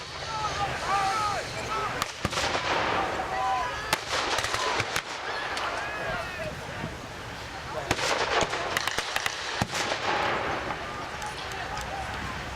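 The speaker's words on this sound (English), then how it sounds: "Right, so the Germans laying down the mortars now." Mortar and gunfire at a WWII battle reenactment at Paddock Wood: repeated sharp bangs and booms at irregular intervals, some loud and close, others distant, over continuous crowd noise and voices.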